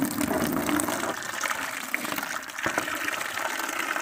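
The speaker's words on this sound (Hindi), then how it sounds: "डालने के बाद यहाँ से पानी को चला देना" Tap water gushes steadily into a plastic tub holding detergent powder, a continuous close, loud splashing fill with no voices.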